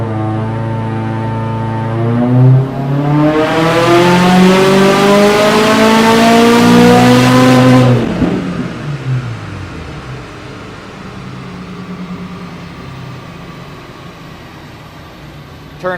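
A Woolman 2.5L engine on a test run revs hard under throttle, its harmonic roar climbing steadily for several seconds before the throttle shuts and it drops back to a low idle rumble.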